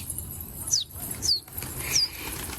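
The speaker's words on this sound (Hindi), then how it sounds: "खाली आवाज़ देते कबूतर उड़ जाता है।" A pigeon's wings flap in quick bursts as the bird takes off, with a few close, rapid flutters and high chirps against a low outdoor background.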